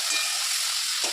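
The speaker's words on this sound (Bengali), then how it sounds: "এবার আলুগুলো ভেজে নিচ্ছি এই তেলে" Potatoes frying in oil alongside prawns in a home kitchen pan, a constant bright sizzling hiss with a couple of brief low stirring bumps, close and steady, no talking.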